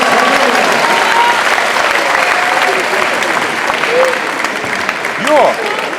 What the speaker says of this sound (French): On peut l'applaudir, il a tout donné sur cette défense.